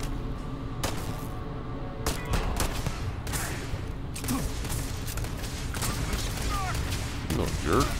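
Sci-fi gunfire in Starfield: repeated sharp shots and bursts at irregular intervals over a steady game ambience, fairly close and loud, with a voice talking at points.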